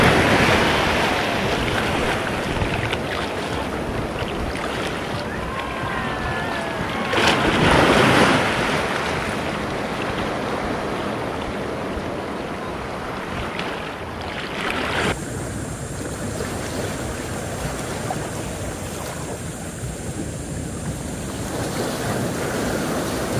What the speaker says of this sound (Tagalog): Lumalaki mga alon mga bro.